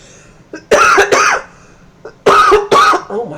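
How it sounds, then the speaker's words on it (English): Two pairs of harsh, close coughs from one person, each burst doubled, separated by a quiet pause, with small throat noises before each pair. "Now there's a cough and it's right here."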